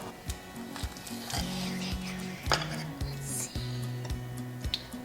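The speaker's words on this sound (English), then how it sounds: "I'm gonna grab a plate and a knife. We're gonna cut into this first one." Knife cutting into a baked pizza empanada on a plate, with a series of light clicks and scrapes as the blade taps the plate at a slow, irregular pace in a quiet kitchen.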